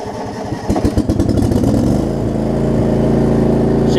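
A John Deere LX279 riding lawn mower engine cranks with rapid choppy pulses, then catches and settles into a loud, steady idle hum, heard up close.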